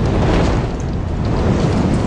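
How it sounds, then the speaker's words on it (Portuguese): Bombing blast bringing down a building amid the Hamas–Israel conflict, a loud, sustained low rumble with dense broadband roar filling the whole stretch, no voices. "E olha, mais uma explosão"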